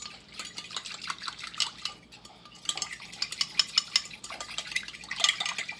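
A fork whisks cornstarch in a small bowl to break up clumps for chowder, giving quick bursts of close, rapid metallic clinking and scraping with brief pauses between them and no talking.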